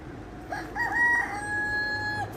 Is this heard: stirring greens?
no